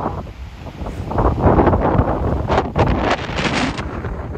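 Strong wind blowing on the coast at Santa Ponça, Mallorca, buffeting the microphone with a steady, loud roar and gusty surges, with no voices.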